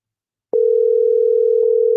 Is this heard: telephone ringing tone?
yes